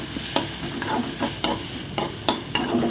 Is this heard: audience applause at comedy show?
no